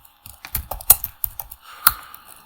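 Quick, uneven typing on a computer keyboard while designing a poster in Adobe Illustrator: a run of close, crisp key clicks with a few louder strikes, heard on their own with no talking.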